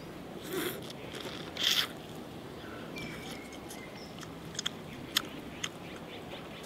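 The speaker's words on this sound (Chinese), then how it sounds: "先吃个大鸭脖。" Close, soft chewing and biting on braised duck neck from a home-cooked pot of classic Chinese braised snacks, with wet squishy bites and a few sharper crunchy clicks against a quiet background.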